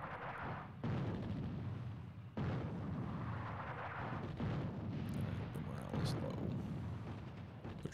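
Enemy air raid in the Attack At Dawn North Africa World War II strategy game, with Desert Rats at Tobruk: repeated low booming blasts and rumbling fire against artillery, loud and dense throughout, with a voice talking over it.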